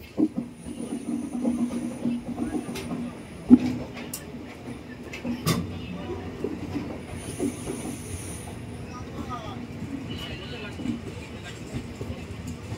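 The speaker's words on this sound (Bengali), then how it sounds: "আমাদের পাশে রয়েছে স্টিল এক্সপ্রেস, যেটা এখন টাটানগর থেকে হাওড়া জংশনে প্রবেশ করছে।" The Steel Express from Tatanagar rolls into Howrah Junction beside platform 21 with a steady low rumble, wheel clatter, brief metallic squeals and hiss, while voices murmur faintly in the background.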